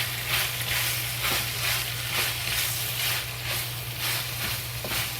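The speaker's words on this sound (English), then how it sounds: "And stir frying." Sliced beef with whole cumin stir-fried in a hot wok for Chinese cumin beef, a steady loud sizzle and hiss with rhythmic swells as the meat is tossed, no voices.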